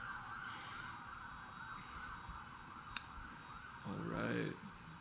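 An ambulance siren passing on a city street near hospitals, heard faint and distant behind steady traffic hum, rising into a brief louder wailing sweep near the end before fading.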